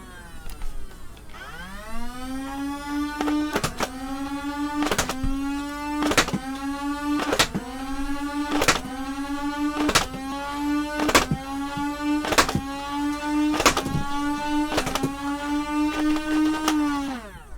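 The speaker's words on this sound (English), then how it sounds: "that was the firing demo of the Nerf BAR" A Nerf BAR toy blaster running on four C batteries whirs up its motor, then fires about a dozen shots in a steady rhythm, each a sharp crack over the continuous close whine.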